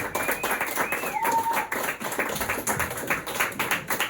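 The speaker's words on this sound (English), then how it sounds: "Let's give a big round of applause." Applause and clapping from a comedy club audience in County Kerry, a dense, steady patter of many hands held for several seconds at close range, with a faint whistle or squeal briefly rising above it.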